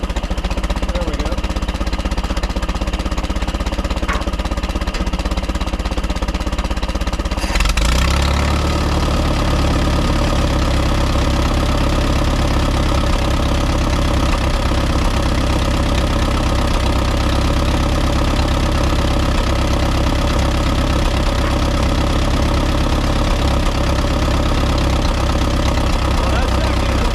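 An Allis Chalmers WD45 tractor engine, an auction find, is quiet at first, then fires up about a third of the way in and keeps running at a steady, loud, close-up idle with a rough, knocking beat.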